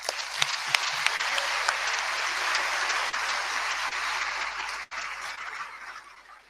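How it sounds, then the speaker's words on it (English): A large audience gives newly qualified medical and dental practitioners a sustained round of applause, dense steady clapping filling the hall before fading near the end. "you deserve another round of applause"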